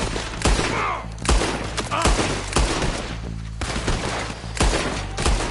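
Gunfire in Red Dead Redemption 2, a rapid series of loud close shots and booming thumps over a low rumbling game soundtrack, with faint voices briefly in the mix.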